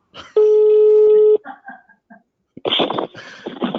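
A telephone call being placed for a French radio segment: a steady electronic ringing tone sounds loudly for about a second, followed by a few short clicks and beeps, then a burst of line noise after a brief silence.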